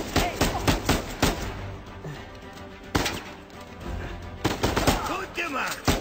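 Gunfire in the video game Uncharted 4, loud bursts of rapid automatic shots separated by brief lulls, with single sharp bangs among them.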